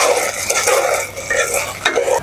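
Basmati rice with kabsa spices, cinnamon and saffron colouring, is stirred and fried in a pot of oil. A close, continuous scraping stir with a soft sizzle runs throughout, with no talk.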